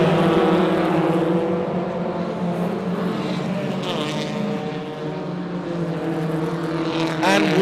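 Race cars at a Track Attack Australia circuit event accelerate together at a restart, a dense continuous engine roar with rising pitch that stays steady and loud throughout, mixed with background commentary-like voices.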